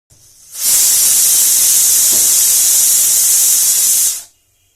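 A pressure cooker full of boiling chickpeas lets out one loud, close, continuous whistle of rushing steam. The hiss starts abruptly, holds steady for about three and a half seconds, then cuts off.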